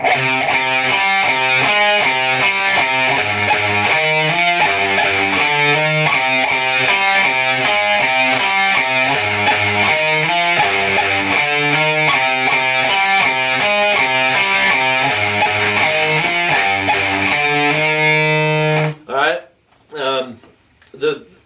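A distorted electric guitar plays a choppy, steady run of repeated notes, then finishes with a few short, separated stabs.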